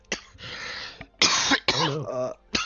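Several throaty coughs and throat-clearing bursts come close and fairly loud in irregular clusters, with short pauses between them and a rasping, voiced tail on the last few.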